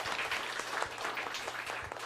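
Church congregation clapping in encouragement for Sunday school teachers during a Korean Sunday service; steady, even applause from many hands, moderately distant and fairly soft, continuing throughout with no talk.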